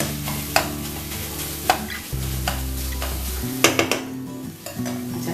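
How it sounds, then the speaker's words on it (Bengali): Boiled beetroot mashed with a spatula in a pan, with a constant low sizzle under scraping strokes and occasional sharp knocks of the spatula against the metal, close by and with no talking. "বিটটা আমার অনেকটা সেদ্ধ হয়ে গেছে, একটু খুন্তি করে ম্যাশ করে নিচ্ছি।"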